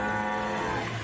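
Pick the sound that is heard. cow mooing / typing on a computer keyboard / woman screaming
cow mooing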